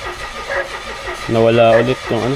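A car that cranks but won't start, with the starter churning briefly and then a short second attempt, close by under Filipino speech from people working on it.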